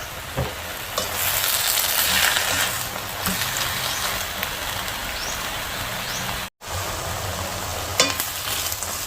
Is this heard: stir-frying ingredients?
yes